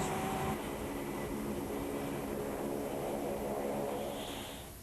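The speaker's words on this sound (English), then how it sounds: "along with this airborne radar plane for command and control" An airborne radar propeller plane flies near an aircraft carrier at sea, giving a steady, droning engine roar that holds evenly and then begins to fade toward the end, with no voices.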